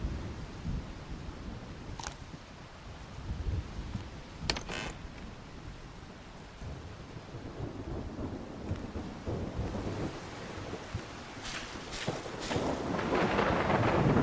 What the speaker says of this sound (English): Yep, that's quite a thunderstorm.